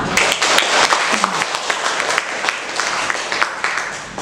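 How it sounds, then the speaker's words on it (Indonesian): An audience applauds after class presentations, a loud dense wash of clapping that carries on steadily, with voices mixed in. "Beri aplaus dulu untuk kita semua."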